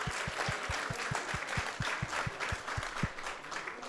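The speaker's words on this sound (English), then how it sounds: "So let's give a big round of applause to everyone who has joined us tonight." An audience at an evening devotional Krishna Katha program applauds in a steady, dense wash of clapping, with a regular, rhythmic low thump pulsing underneath throughout.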